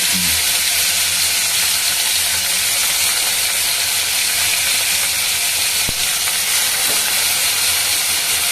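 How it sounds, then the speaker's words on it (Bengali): Catla fish frying in a pan, a loud, dense, continuous sizzle with steady hissing and a few faint pops. It is close and uninterrupted throughout, with no talking. "মাছগুলো একটু দয়া করে ভেজে নিই"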